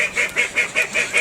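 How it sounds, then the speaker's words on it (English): Call ducks on a muddy suburban smallholding during a winter storm, with heavy rain falling, give a rapid run of loud, raucous quacks, about five per second, close by and with no talk over them. "You hear the call ducks making as much racket as they can."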